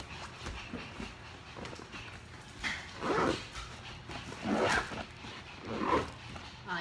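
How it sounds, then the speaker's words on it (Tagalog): A dog barks several times in short, spaced bursts, fairly close, with some rustling and handling noise between the barks. "ang ingay ng aso ko, no?"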